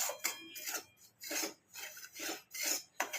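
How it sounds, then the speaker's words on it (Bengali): Semolina is stirred while it roasts in a hot kadai over high heat, producing rhythmic gritty scraping strokes, about one every half second, fairly close and without talk. "এটা আমি মানে একটু লাল করে ভেজে নেব।"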